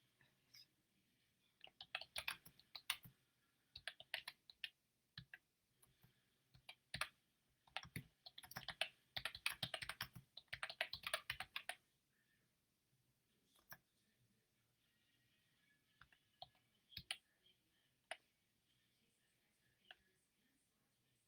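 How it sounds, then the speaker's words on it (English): Someone types on a computer keyboard in quiet bursts of light clicking, busiest early on, then thinning to scattered taps and pauses, faint and close. "I was just typing in"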